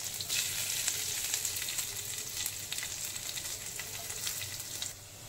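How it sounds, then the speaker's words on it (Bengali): Garlic and nigella seeds fry in hot oil, giving a continuous close hiss dotted with small pops and crackles over several seconds, with no speech. "রসুন বেশ ভালোভাবে ভাজা ভাজা হয়ে গেছে"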